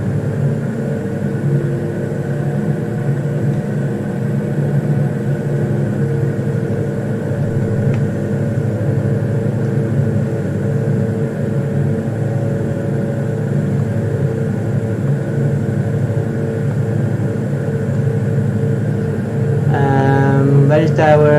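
A steady airplane engine drone during a full-flaps landing approach in a flight simulator, continuous and loud, with a brief warning tone near the end.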